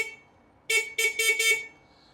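A battery-powered vehicle sounds its horn in four short, bright beeps in quick succession, close and fairly loud against a quiet background.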